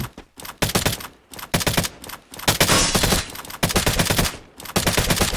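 Rapid automatic gunfire from the Free Fire battle royale game, with a FAMAS rifle firing in loud repeated bursts separated by short pauses, plus a dense sustained volley near the middle.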